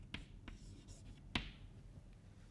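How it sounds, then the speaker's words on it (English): Chalk or marker writing on a board during a lecture on polynomials: a few brief tapping strokes and scratches, fairly faint, with no talking. "so let me just write it"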